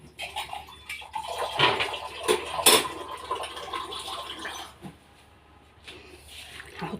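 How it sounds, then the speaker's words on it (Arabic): Glass of water poured into a pot of potato and chicken casserole in a home kitchen, short splashy pours and clinks of cookware, fairly quiet and close. "هحط كمان كوبايه ميه عشان السوا بقى."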